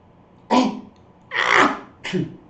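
Three sneezes in quick succession, loud and close, each a short sharp burst with brief pauses between them.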